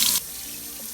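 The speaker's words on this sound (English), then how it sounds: "Now I'm going to run cold water over it." Cold water from a tap pours over a plastic bottle, a bright, close gush at the start that settles into a steady, softer running hiss for the rest of the second.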